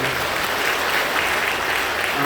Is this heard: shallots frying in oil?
no